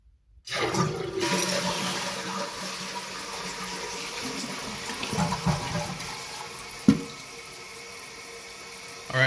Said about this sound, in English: Alright, turned on the water.